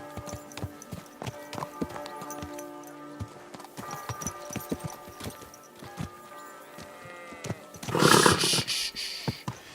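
Horse hooves clip-clop in an uneven walking rhythm in the video game Kingdom Come: Deliverance II, joined near the end by a loud, rough whinny or snort.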